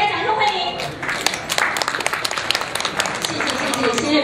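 An audience at an evening gala applauds to welcome two speakers to the stage: a brisk, continuous patter of many hands, close and full, running the whole stretch without pause.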